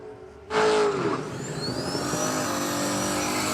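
A turbocharged VN car launches down a drag strip at a dragway, a sudden loud engine roar that holds steady as the car pulls away, with a faint rising whistle over the noise.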